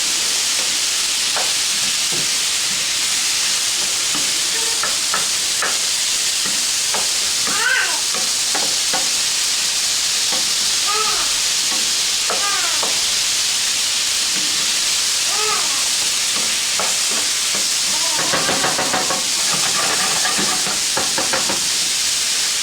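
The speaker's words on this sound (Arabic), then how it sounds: "وكنستمروا في التحريك" Onion, garlic and chicken sizzle and hiss steadily in a frying pan while being stirred, with scraping strokes and a voice talking over the cooking.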